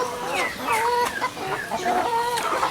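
Chickens in coops cluck in a continuous busy chorus, several birds close by with overlapping rising and falling calls.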